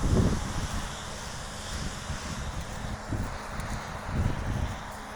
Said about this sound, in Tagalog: Tapos mahangin pa.